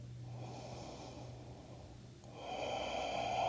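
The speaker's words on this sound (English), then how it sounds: "take one more breath here" A slow, deep breath during a gentle yoga flow: a long airy exhale, a brief pause, then a fuller inhale that builds in loudness, close and unaccompanied by speech.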